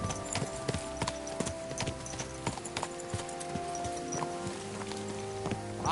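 Hooves of a horse clip-clopping at a slow walk, a steady series of sharp knocks set against a quiet soundtrack of sustained tones, moderately close and fairly faint.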